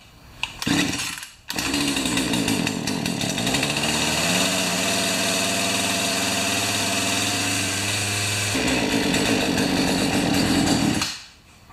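A Poulan 3816 chainsaw, one that had not been running, fires after a drop start and keeps running with a loud, steady, buzzing two-stroke drone at close range, then cuts off near the end.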